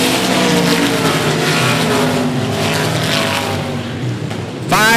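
Limited modified race cars roar past at the 105 Speedway during a feature event, a loud, close engine drone with rising and falling pitch that fades slightly before a fresh burst of noise at the end.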